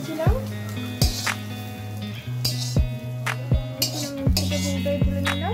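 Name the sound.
lifting fried bitter gourd out of the pan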